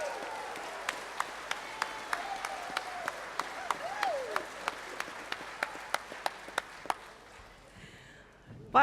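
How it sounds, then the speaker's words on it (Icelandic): An audience at a political party's summer meeting claps in a steady, evenly spaced rhythm, sharp distinct claps over a quiet background that stop near the end. "við gefum þeim gott klapp Kristjáni Hreinsyni"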